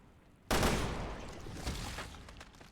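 Gunfire in the NieR Replicant video game: a sudden loud burst of rapid shots that starts abruptly and fades into a sustained, slowly decaying roar with a few smaller flare-ups.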